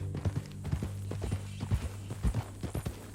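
Horse hooves clip-clopping at a walk in Red Dead Redemption 2, a steady close rhythm of clear hoof strikes on hard ground over low background hum.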